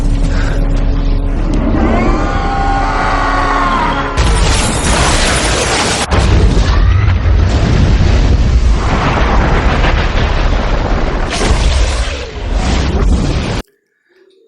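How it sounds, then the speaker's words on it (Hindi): The Bifrost bridge blows apart in a Thor film: a loud, sustained roaring blast with crackling debris and rumbling bursts, swelling in waves for about thirteen seconds before cutting off abruptly. "फोड़ देता है तो सब वहां पे ब्लास्ट होता है"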